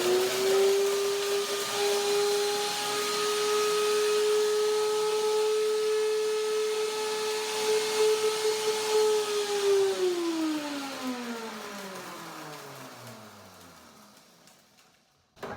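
A kitchen blender grinds almonds into meal, its motor whining at a steady high pitch for several seconds before winding down as it is switched off.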